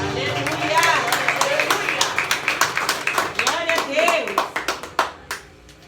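Church congregation clapping during a worship service, rhythmic handclaps from many people close by, with voices and speech mixed in before the clapping thins out at the end.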